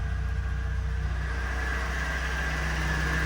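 A truck idles steadily with a continuous low engine rumble and a faint higher hum, close and even throughout, with no talk.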